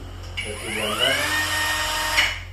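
BULL brushless wood trimmer whining at high speed on a teak board, a close, loud motor tone that rises in pitch as it spins up and holds steady as it cuts.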